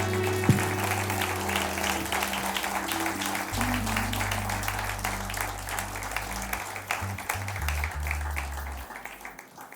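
Congregation applauding in a church after a closing prayer, a steady wash of many hands clapping for the whole stretch over a low droning organ or keyboard tone.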